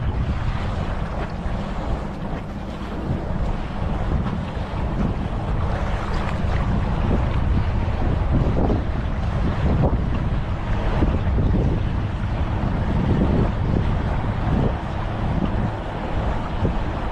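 A boat passing on open water at Hoover Dam, a steady broadband wash of engine drone, hull spray and wind buffeting the microphone throughout, fairly loud and continuous with no talk.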